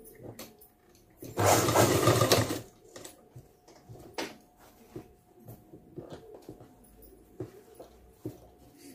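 A sewing machine stitching a blouse runs in one short, loud burst of rapid whirring, followed by quieter clicks and handling noises.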